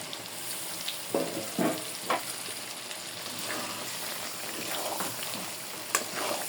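Mutton pieces go into a pan of fried spices and crackle into a continuous sizzle, punctuated by several short clattering bursts as the meat lands and settles.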